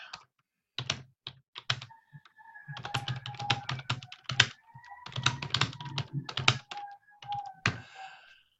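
Rapid, irregular clicking of keys on a computer keyboard, close up, in quick bursts with short pauses and faint background tones.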